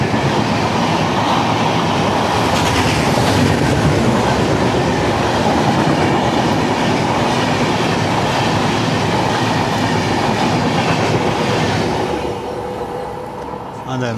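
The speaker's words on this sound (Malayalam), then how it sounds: "Doctor MGR Chennai central Coimbatore ഇൻട്രസിറ്റി express." Dr MGR Chennai Central–Coimbatore Intercity Express train rushes past close by, a loud continuous roar of wheels and wagons with steady clatter that fades slightly near the end.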